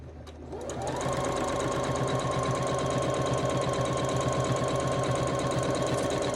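A sewing machine stitches quilt pieces for a Wagon Tracks sampler block, starting up after a brief pause and then running in a fast, steady mechanical rhythm, loud and close, with no talk.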